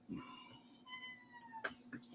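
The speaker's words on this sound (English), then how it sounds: "Little kitty cats are yelling at me already." A cat meows a few times, faint and a little distant, with short drawn-out calls over a quiet background hum.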